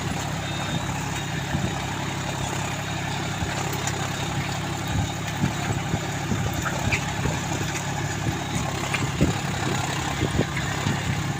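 A John Deere 5050D 4WD tractor of about 40-42 HP labours while plowing very hard soil at 1200 to 1250 RPM, its engine droning steadily and loudly with a low rumble throughout.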